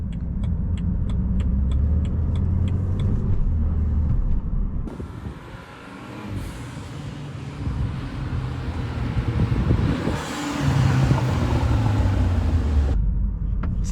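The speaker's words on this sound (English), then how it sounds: "that quarter intake with the twin turbo sounds so good." A twin-turbocharged car with a quarter intake pulls hard while driving with the top down, its engine and intake roar rising and falling through gear changes amid steady wind and road noise.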